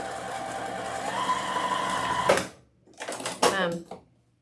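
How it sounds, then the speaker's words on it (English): A sewing machine stitches fabric for a mummy tennis shoe, running steadily for about two seconds with a slight change in pitch, then stopping. Short bursts of speech follow. "I just sew to the toe on that one and sew up the back side."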